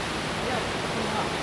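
Busay Falls in Barangay Balucanad, Capoocan, Leyte, a rushing, broadband roar of falling water that stays steady and close, with faint voices under it.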